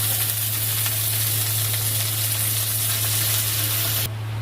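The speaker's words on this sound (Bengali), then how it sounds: "পেঁয়াজটা হালকা ভাজা ভাজা হয়ে এসছে এবার শাকটা দিয়ে দেবো" Onion and leafy greens frying in a pan, a loud continuous sizzle with a constant low hum underneath, steady throughout before cutting off abruptly near the end.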